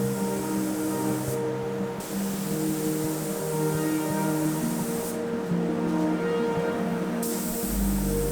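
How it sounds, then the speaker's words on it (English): A spray gun hisses steadily while painting a body panel of a classic Toyota Landcruiser FJ62 during a respray, a continuous close airy rush with brief pauses between passes. "Lastly, but definitely not least, you get to spray the front face."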